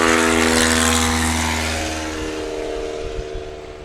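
A STOL propeller airplane at a St. Joseph, Missouri competition roars at full throttle on takeoff, loud and steady at first, then gradually fading as it moves away.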